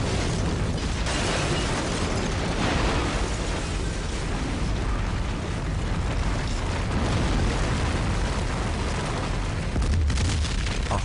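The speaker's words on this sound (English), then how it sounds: "A horrific explosion inside an underwater tunnel leaves a small group of commuters trapped and struggling to survive." A film explosion tears through an underwater road tunnel packed with commuters, heard as a sustained roaring, rumbling blast that stays loud and dense for the whole stretch, with bursts of debris and no voices.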